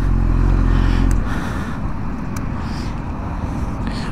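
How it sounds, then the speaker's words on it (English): A motorcycle engine idles with a loud, steady low rumble up close, then shuts off abruptly, leaving quieter background noise with faint clicks afterward, and no restart is heard. "We're gonna go ahead and turn the bike off up here and restart it"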